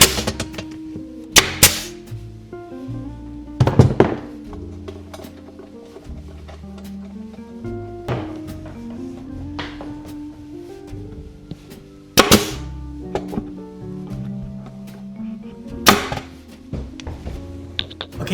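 A pneumatic tacker powered by an air compressor, used while fitting a Fender chassis into a Gibson amp, fires a few sharp, loud isolated shots spaced seconds apart, with quieter knocks and handling sounds between.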